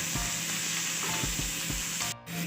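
Onion frying in a pan for kaleji fry, a steady close sizzle with a few soft stirring knocks, briefly cut near the end before resuming.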